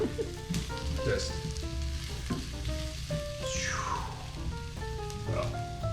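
Onions fry in butter in a pan with a steady sizzling crackle throughout, overlaid by light music tones and a swooping tonal sweep.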